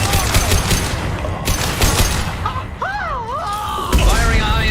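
High-impact gunfire in a Mass Effect 2 firefight: loud, rapid bursts of shots and cracking impacts, overlapped by a tonal whooshing effect and battle chatter.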